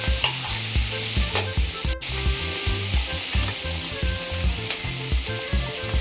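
Chilli masala for red fried rice fries in a pan with a loud, continuous sizzle, while rapid rhythmic spatula scrapes and knocks clatter close by throughout.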